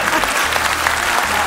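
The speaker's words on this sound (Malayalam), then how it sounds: "ലക്ഷ്മി ഇത്ര പ്രോത്സാഹനം എനിക്ക് ഈ അടുത്തിടെ കിട്ടിയിട്ടില്ല കൈയടിക്കാം" A studio audience on a Malayalam TV comedy show claps in loud, sustained applause that fills the room with dense, even clapping.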